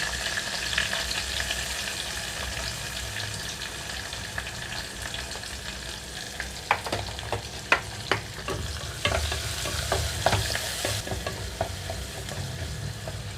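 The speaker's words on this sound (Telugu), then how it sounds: "ఉల్లిపాయలు కొంచెం కలర్ మారే వరకు వేయించుకుంటున్నాను" Onions, mint and green chillies fry in hot oil over a low flame for a mutton masala, giving a steady close sizzle, with sharper stirring scrapes and clinks clustering midway through; no voices.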